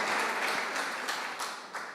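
Steady applause from a church congregation, a dense wash of clapping that holds for about two seconds at moderate volume with slight swells, no voices standing out.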